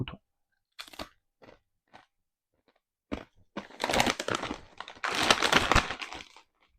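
Close crunching and chewing of unusual maroilles cheese-flavoured potato chips, a few sparse bites at first, then dense, loud crackling mastication in two bursts.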